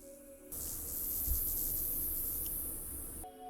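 A firefly bush in Minecraft gives off a soft, steady insect-like buzzing, a thin high hum that switches on, holds evenly for about three seconds, then stops.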